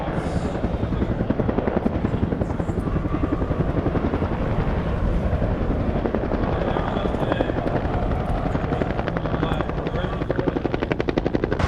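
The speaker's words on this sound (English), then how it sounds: "Flying our Cobra today, Captain retired, Greg Mercier" A Bell AH-1 Cobra attack helicopter in flight, loud steady rotor chop with a continuous turbine whine throughout, close and uninterrupted.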